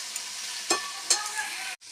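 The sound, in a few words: potatoes frying with mustard paste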